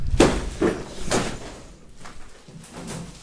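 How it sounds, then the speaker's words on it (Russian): Footsteps on metal sheets in an abandoned underground tunnel beneath the Jupiter plant in Pripyat, Chernobyl zone: three loud clanging steps in the first second or so, then fainter, scattered hollow thuds. "И здесь очень громко идти по этим металлическим листам."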